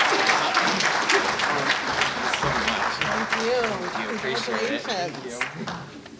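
An audience applauds continuously at a graduate student scholarship reception, a dense, sustained clapping with voices and cheers mixed in throughout.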